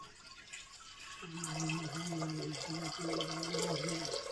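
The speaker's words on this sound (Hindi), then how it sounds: "अब इसमें हम पानी डालेंगे।" Water poured into a vessel to soak grains for a Kumaoni festival dish, a steady trickling, filling sound that runs for several seconds at close range over faint room noise.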